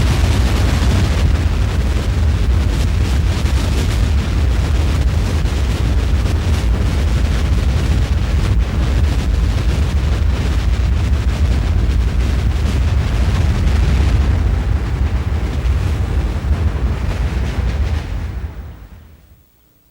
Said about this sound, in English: an unearthly growling and hissing sound precedes an explosion of steam and gas